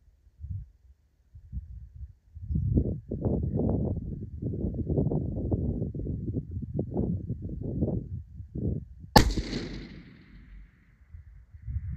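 A rifle fires one long-range shot at a steel target roughly 738 yards out, a sharp loud crack that rings off into a fading metallic tail, preceded by a low rumbling wind-like noise.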